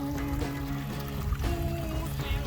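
River water rushes steadily at a crossing on a dry hillside of Ben More on Mull, a continuous close broadband wash with no pauses and no talk.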